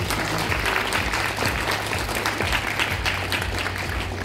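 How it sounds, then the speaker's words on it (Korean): Loud, close applause from a sizable forum audience in Seoul fills the whole stretch, dense and continuous without any speech. "따뜻한 박수로 맞이해 주시기 바랍니다"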